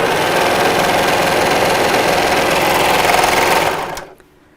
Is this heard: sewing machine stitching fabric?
yes